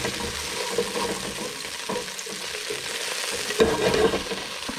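Food sautéing in olive oil in a pan on a stove turned up to high gives a steady, moderate sizzle with occasional stirring scrapes and a brief louder flare near the end.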